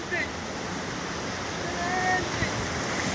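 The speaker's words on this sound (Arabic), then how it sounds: "وعلى المباشر البحر هايش" Rough sea waves breaking at the shore during rod fishing, a steady roaring wash with wind noise throughout.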